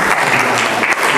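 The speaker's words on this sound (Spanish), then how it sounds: "Un aplauso." Audience applause at a civic forum in Mexico on the urban impacts of the September 19 earthquake, a dense, steady burst of many hands clapping that fills the whole short moment with no speech.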